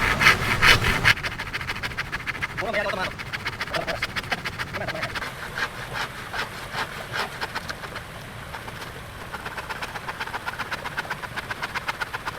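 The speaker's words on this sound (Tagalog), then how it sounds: "Lagariin ko na siya dito sa may bandang puno." Hand saw cutting through bamboo outdoors, a steady, close rasping rhythm of back-and-forth strokes that carries on for the whole stretch with no talking.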